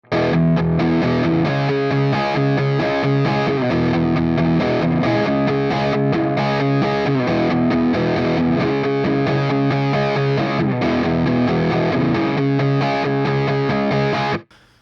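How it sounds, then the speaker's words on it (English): A heavily distorted electric guitar chugs in tight, rapid palm-muted downstrokes, dense and loud throughout, stopping abruptly at the end. "this kind of staccato where I'm hitting the string and then palm muting it right after that"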